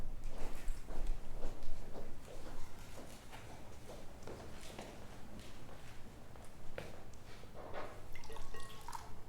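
Water brought from home is poured and dripped during a ceremony at a gathering, giving a run of soft, irregular splashes and drips that sit close and fairly steady, with faint room noise behind.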